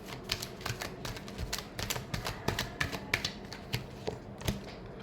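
A deck of tarot cards is shuffled by hand nearby, producing a quick irregular run of crisp flicking taps and riffles, each short and clicky, with no talking.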